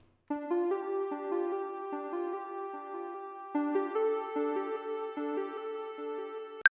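A Moog Minitaur synth lead with delay, distortion and reverb plays a sustained melodic line of smooth, buzzy notes with echoing repeats. The line stands alone with no talking and ends in a brief sharp click.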